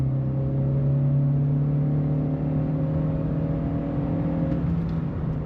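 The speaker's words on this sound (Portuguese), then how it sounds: "Vamos subir um pouquinho aqui o giro e vamos lá. Cantando tudo de pneu, né?" A Volkswagen Saveiro Extreme pickup accelerates hard, its engine holding a loud, steady high-revving drone for about five seconds, close and continuous with no talking, before easing slightly at the end.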